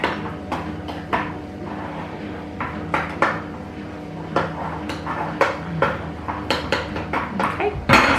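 A metal spoon pats and presses down a biscuit cheesecake base for a caramel and Malteser cheesecake, giving a run of close, irregular clinks and taps against the tin.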